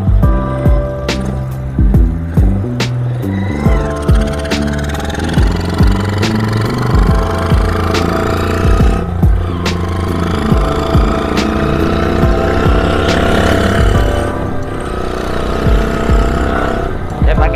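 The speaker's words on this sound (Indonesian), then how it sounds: "Suara knalpot gede-gede," Loud, rumbling chopper motorcycle exhausts roar continuously up close in heavy traffic, with engine revs rising and falling and a voice talking over the din.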